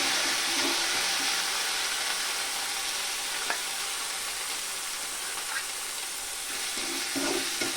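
A ground spice paste hits a pan of hot oil with a bay leaf, producing a dense, loud, continuous sizzle and hiss with faint stirring scrapes underneath.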